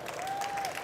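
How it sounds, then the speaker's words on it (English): Crowd applause at a sim racing expo, a short stretch of steady clapping with a faint tone running underneath. "big round of applause for Thomas Jackemeyer"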